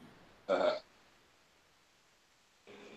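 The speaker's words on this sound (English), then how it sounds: "I was coughing" Two short, abrupt coughs from a man during a casual live stream, the first sharp and loud, the second quieter and cut off at the end, with near silence between.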